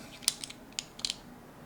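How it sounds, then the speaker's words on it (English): The crank is fitted onto a Shakespeare 1799 Wondercast fishing reel, giving a few small, close metallic clicks and ticks, sparse and quiet, set in a near-silent room. "Then our crank goes on."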